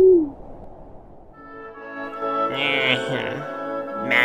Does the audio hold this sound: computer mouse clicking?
no